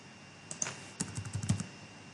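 A few scattered keystrokes clicking on a computer keyboard, light and close, in short bursts with gaps between them.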